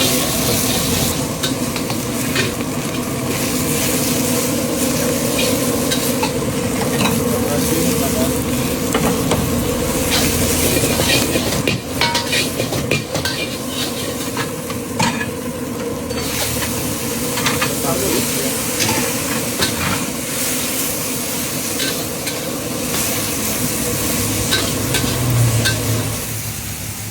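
Kway teow noodles with chicken, meatball, shrimp, egg, onion and vegetables stir-fry in a wok, with a continuous loud sizzle, repeated scraping strokes of the spatula, and occasional voices in the background.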